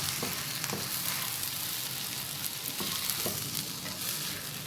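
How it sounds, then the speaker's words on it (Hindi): Egg fried rice sizzles steadily in a hot pan as soy sauce is stirred in, with a constant frying hiss and a few soft scraping strokes of the spoon, close and fairly quiet. "1 टेबल स्पून इसमें जाएगा सोया सॉस, और इसको मिक्स कर लूँगी"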